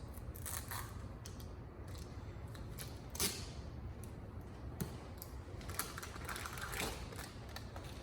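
Medical tape torn and pressed onto three sides of a dressing pad over a wound to form a one-way valve, soft crinkling and brief ripping sounds, quiet and close, with no talk.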